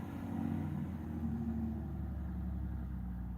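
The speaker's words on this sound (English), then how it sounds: "somebody with a very loud, ruffly car just went by" A loud, rough-sounding car goes by, its engine a low, steady rumble heard alone for a few seconds.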